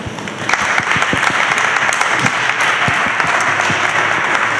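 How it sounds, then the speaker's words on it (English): A room full of people gives a round of applause at a community meeting, with steady, close clapping that continues throughout. "you should all give yourselves a nice round of applause"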